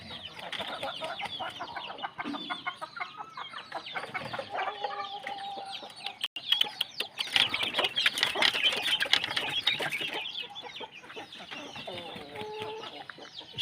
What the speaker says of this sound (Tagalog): Ito naman yung tandang.